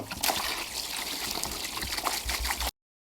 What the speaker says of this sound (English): we're going to add some water in here